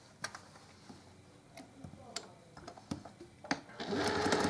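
A sewing machine stitches a boxed corner seam in fabric, reversing at each end, with quiet ticking and mechanical taps close by. The motor then runs into a louder, steady whir at the end.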